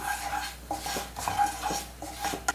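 A spoon stirs Kashmiri chilli powder and pepper powder into dum aloo in a pan, giving repeated scraping and clinking against the metal in irregular strokes, close and moderately loud, with no voices.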